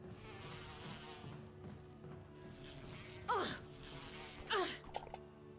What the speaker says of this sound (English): Bloody bees.